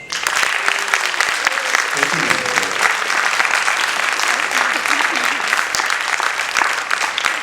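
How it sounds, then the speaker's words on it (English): Audience applause fills a hall as the curtain opens on a dance performance, a dense, loud and continuous clapping that runs evenly for the whole seven seconds with no talk over it. "the curtain opens with your claps"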